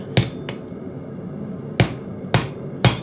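Hot Damascus steel for a chef's knife is hammered on an anvil, giving five sharp, ringing strikes at uneven intervals, close and crisp over a quiet background.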